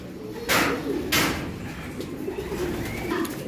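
Pigeons in the breeder section of a loft of male birds coo low and continuously, with two brief rustling bursts near the start and soft loft noise throughout.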